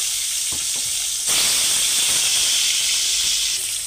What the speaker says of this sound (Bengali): আমি সবসময় সর্ষে তেলে মাছটা ফ্রাই করি